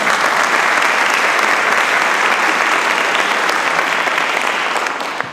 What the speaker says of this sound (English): please say hello by way of applause